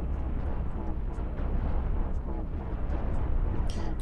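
Spaceship laser and cannon fire in the space combat game Cosmoteer makes a continuous rumbling barrage dotted with sharp pops and crackles, moderately loud and unbroken throughout.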